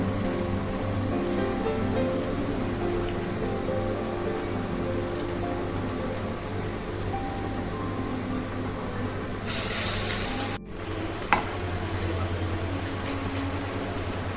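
Prawn vadas deep frying in hot oil, a steady dense bubbling crackle throughout with a brief louder hiss near the end.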